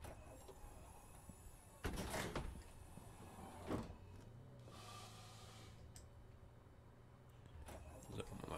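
A city bus door closes in the OMSI 2 bus driving simulator. A soft, steady mechanical whir runs for a few seconds, framed by a few faint clunks and thumps, with no talking.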